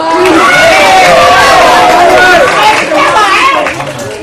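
A lively crowd cheers and shouts for a dance crew at a TVRI Maluku television studio show, loud and continuous, with excited voices and babble over scattered clapping.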